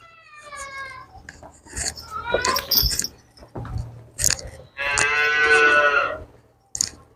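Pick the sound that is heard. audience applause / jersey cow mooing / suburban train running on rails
jersey cow mooing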